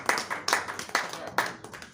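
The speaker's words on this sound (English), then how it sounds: "A round of applause for everyone" A few people clapping in slow, separate bursts at a civil society engagement session in Lagos, close and sparse rather than a full ovation.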